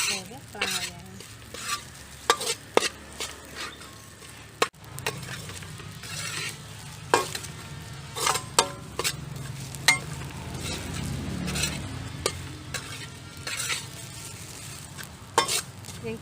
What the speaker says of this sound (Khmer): យើងលីងរហូតដល់សាច់មាន់យើងនេះឡើងស្រួយឡើងក្រហមល្អយើងស្រួយល្អយើងកូរវារហូត